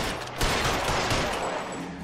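A shootout in LA Noire: heavy, overlapping gunfire in a dense volley that keeps up the whole time, loud and close.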